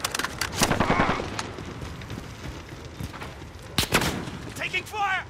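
Rapid bursts of automatic gunfire and sharp single shots crack through a Call of Duty: Modern Warfare match, coming in irregular volleys with brief gaps, while voices call out over the fighting.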